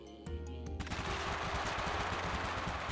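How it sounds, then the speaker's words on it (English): An assault rifle in the video game TABZ fires in a rapid, close burst of densely packed shots, following a brief tonal sound at the start. "the assault rifles burn through clips extremely quickly"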